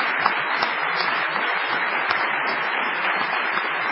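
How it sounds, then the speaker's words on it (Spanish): A theater audience gives a sustained ovation for a guest on a live comedy show, dense steady applause and clapping filling the whole stretch without a break, fairly loud and even. "Esta tremenda ovación solo es sombra de la sombra de la que va a recibir el artista"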